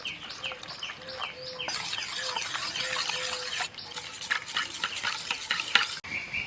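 A spoon stirs a sauce of pepper powder, Kashmiri chili powder and salt loosened with water in a pan, giving steady wet scraping and swishing strokes for about six seconds, close and moderately loud with no talking.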